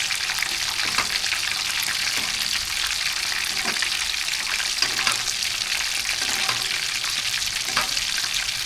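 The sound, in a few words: chicken deep frying in oil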